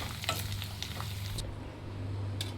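Chopped ingredients fry in a small amount of oil for a homemade guava hair oil. A steady, close sizzle carries soft stirring scrapes, with a few sharper bursts of crackle and no talk.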